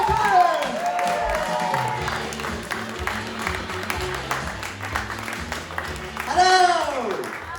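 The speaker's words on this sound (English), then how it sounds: "Add some whooping, add some cheering. Welcome to the stage," A comedy club audience in Manchester whoops and cheers for a comedian taking the stage, loud rising shouts and whistles with scattered clapping, swelling again near the end, while a voice talks through it.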